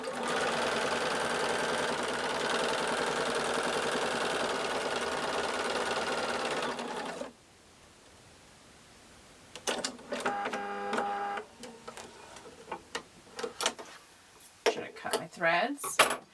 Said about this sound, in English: keep stitching all the way through